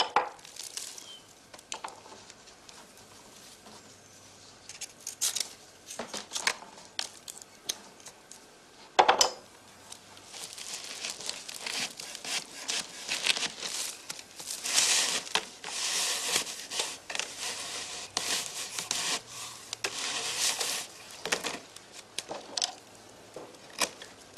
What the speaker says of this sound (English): The knife and the awl are the chief tools used during such repair work.